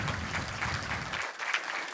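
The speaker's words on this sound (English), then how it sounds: "Like big applause for the Krzysiek" A tech conference audience at a Swift developers' talk claps in a dense, even burst of applause that thins out toward the end.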